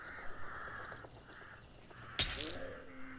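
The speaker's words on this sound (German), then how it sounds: "Yay, ich hab die Krähen auch gehört." Crows caw in Hunt: Showdown, a few hoarse repeated calls at moderate distance over a low ambient background, interrupted by a sharp crack followed by fading tonal sounds.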